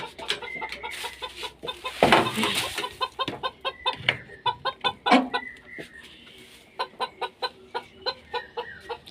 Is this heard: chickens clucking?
yes